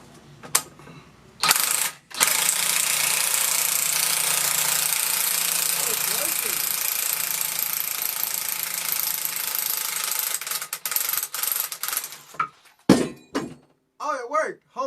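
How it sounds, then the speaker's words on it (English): An impact wrench hammers loose the 24 mm crank pulley bolt on an LS engine in a long, loud, close burst of rattling blows, preceded and followed by short bursts and a voice at the end. "we'll grab the impact."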